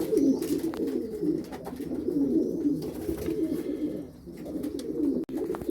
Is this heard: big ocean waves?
no